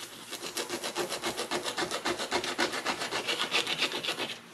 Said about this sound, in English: So I'm going to go ahead and start sanding this.